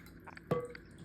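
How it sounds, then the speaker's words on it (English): Small amounts of water poured into a container of sea moss during preparation, a soft drip and splash near the middle followed by faint trickling, close and quiet. "And then we keep adding a little bit of water at a time."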